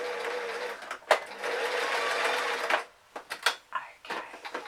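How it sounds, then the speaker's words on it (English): A sewing machine runs in steady bursts while stitching a seam on a fabric bag hat, a long continuous whir followed by shorter stop-start runs, close and clear with no talking. "do a couple of stitches on that seam"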